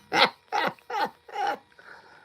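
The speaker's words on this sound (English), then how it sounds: "That's my dog, man." A dog vocalizes in four short, loud bursts spaced about half a second apart, close to the listener, followed by a fainter trailing sound; no people speak.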